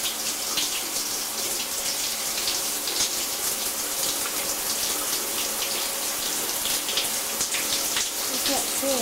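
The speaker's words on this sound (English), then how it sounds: "Okay, we're gonna go get Ruthie in the shower" Shower water running steadily in a steamy, fogged-up home bathroom, a close and continuous hissing spray that holds even throughout.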